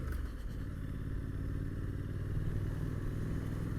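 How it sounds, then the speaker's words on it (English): Triumph Street Scrambler Gold Line motorcycle riding on Lake District roads, a continuous low engine rumble with steady wind noise heard from on the bike. "Must say the Street Scrambler is the ideal bike for this kind of trip."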